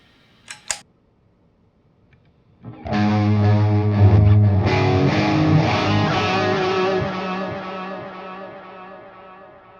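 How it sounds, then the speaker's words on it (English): A couple of sharp clicks, then a distorted guitar chord rings out through a 2290 P Dynamic Delay pedal, smeared by many echoing repeats that slowly fade. "So it's got a lot more repeats."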